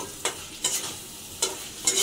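Tripe and potatoes are stir-fried in a pan under a steady bright sizzle, with four short scraping strokes of a spatula spaced through the clip.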